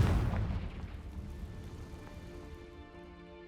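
A Confringo spell explosion in the Hogwarts Legacy video game lands as a single loud boom at the start, its rumbling tail fading slowly over a few seconds beneath a low sustained musical tone.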